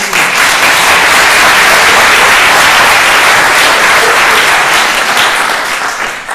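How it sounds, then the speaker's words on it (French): Loud, dense applause in a French stage performance, sustained clapping that holds steady and then tapers slightly at the end, with no talk over it. "Moi, je peux vous applaudir."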